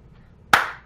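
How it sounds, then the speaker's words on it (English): A single sharp hand clap, close and loud, ringing briefly after a quiet moment. "I don't know why you're clapping"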